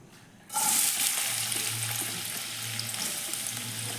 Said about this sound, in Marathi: कांदा चांगला लालसर होईपर्यंत परतवायचा आहे।